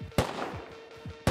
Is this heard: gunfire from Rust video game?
yes